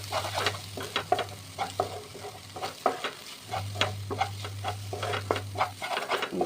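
Chili powder stirred into food frying in a pan, heard as rhythmic, repeated scrapes and clatters of a spoon over a constant sizzle and a low hum, close up and with no speech.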